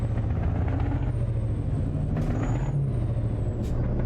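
A heavy truck's air brakes release short, sharp hisses at a couple of moments over a steady low engine drone, close and clear, in American Truck Simulator driving with a high-horsepower engine, with no talking.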